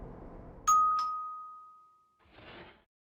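A game doorbell in Blue Archive rings a single bright ding that sustains and slowly fades, followed by a brief soft rustling burst, with no talk over it.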